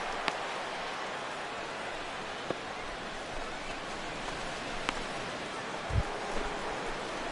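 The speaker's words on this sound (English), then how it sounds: "Rain continues to fall here in the 6th." Rain falls during a baseball game in MLB The Show 17, a steady soft hiss running throughout, with a few faint clicks and one brief low thump near the end.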